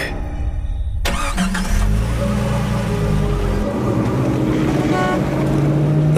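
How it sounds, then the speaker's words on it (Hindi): A car engine starts up nearby and then runs at a steady, loud idle and rev, with a broad mechanical rumble that continues to the end. "लक्ष्य अपनी गाड़ी से आनंद के घर पहुंचता है"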